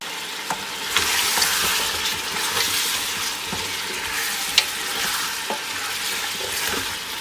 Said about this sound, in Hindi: अच्छे से भूनेंगे, फ्राई करेंगे घी में लहसुन अदरक के साथ